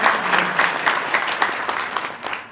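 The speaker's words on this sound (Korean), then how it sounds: "다 박수 한번 격려합시다." Audience applause at a prayer breakfast held in a hotel banquet hall, a crowd of guests clapping together with lively, uneven hand claps that stay strong throughout.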